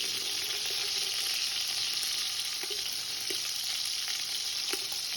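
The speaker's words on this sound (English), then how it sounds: "Just want to get a little bit of that browning caramelization on there." Beef pieces browning in a hot pan for beef bourguignon, a loud continuous sizzle and spatter close by, with occasional stirring clinks and no talking.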